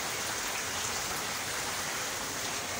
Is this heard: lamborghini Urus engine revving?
no